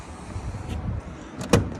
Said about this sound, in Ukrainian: передні електросклопідйомачі